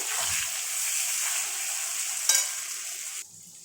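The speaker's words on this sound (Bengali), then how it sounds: "আমি এখন পেঁয়াজ কুচিটা এর মধ্যে দিয়ে দিচ্ছি" Chopped onion fries in oil in a pan for a chicken curry made without water, giving a continuous close sizzle with a short sharp stir or splatter partway through before it quiets near the end.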